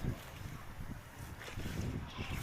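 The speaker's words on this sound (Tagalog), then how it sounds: "malakas ang hangin" Strong gusty wind in bad weather buffets the microphone in uneven surges, with rumbling low bursts and a faint water-and-boat ambience behind it.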